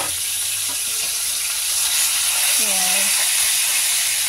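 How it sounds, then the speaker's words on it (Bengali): Loud, steady sizzling and hissing of fish frying in hot oil in a pan fills the clip, with faint clinks and a brief tonal squeak. "আর একবার উল্টে উল্টে ভাজি"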